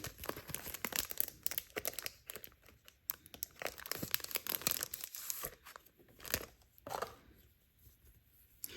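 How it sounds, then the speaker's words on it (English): A stamp sticker set package is torn open, with close, continuous crinkling and ripping of the wrapping in uneven bursts and a few louder tears near the end. "And I'm going to open it to show you each one of them."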